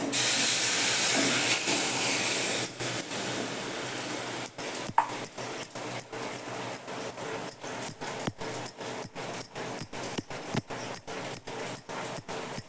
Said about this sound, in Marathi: दूध घालते मी आता